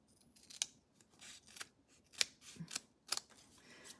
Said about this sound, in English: I'm one short, so I've got to cut a strip.